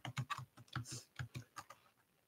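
Quick typing on a computer keyboard: a rapid, uneven string of crisp key clicks heard close and alone, roughly a dozen strokes in just over two seconds.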